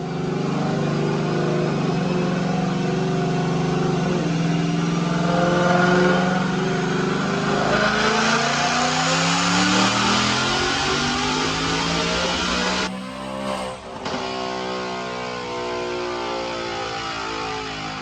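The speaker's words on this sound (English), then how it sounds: "Let's check out a dyno pull" A 2018 Mustang GT Gen 5 automatic with a Whipple supercharger at 12.5 psi, Kooks headers and a 100-octane fuel mix roars through a dyno pull, its engine note climbing loudly and steadily before cutting off and settling into idle.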